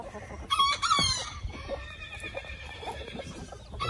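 Silkie chickens out with their chicks give a louder drawn-out call early on, followed by a run of short, scattered clucks at moderate volume, with no speech.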